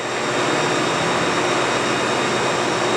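A Haas 5-axis vertical machining center spindle runs at 8,000 RPM, making a loud, steady, unbroken whir with a thin high whine on top. It continues alone without interruption and no one speaks.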